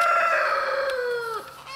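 A single rooster crows nearby, a loud drawn-out call that falls off sharply at the end.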